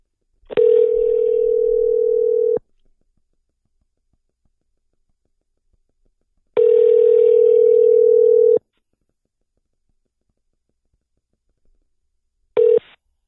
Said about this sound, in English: So let me call him up. Hopefully he fucking answers the phone